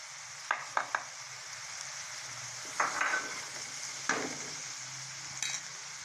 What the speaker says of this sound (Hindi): फिर हम इसमें टमाटर ऐड कर देंगे और इसे भी अच्छी तरह हिलाएंगे ताकि ये अच्छी तरह गल जाए।